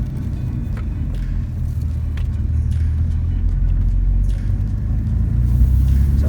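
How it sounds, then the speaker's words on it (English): A Nissan Skyline GTR drives along while its new slotted brake rotors are bedded in with repeated medium braking from about 50 to 15 km/h, giving a continuous low road and engine rumble from inside the car with no speech. "we're just going to bed in the brakes now"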